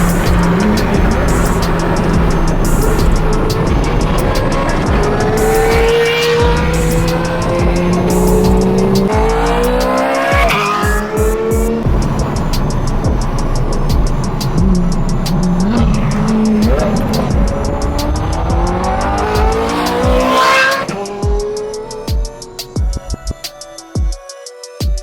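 A Ferrari 430 Scuderia fitted with an Agency Power titanium exhaust revs hard and loud up close, its engine note rising and dropping through repeated sweeps before cutting off near the end, with sharp crackles between revs.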